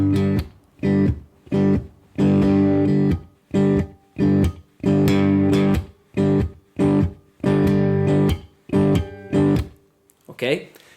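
Open G blues groove fingerpicked on guitar without a pick, with rhythmic plucked chord bursts in steady, loud phrases and short gaps, ending on a bent note.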